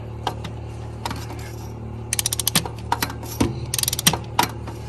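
Torque wrench ratcheting while tightening fuel injectors on a RAM 6.7 Cummins, sharp close clicks in scattered single strokes and quick rapid runs over a steady low hum, ending in a few spaced clicks.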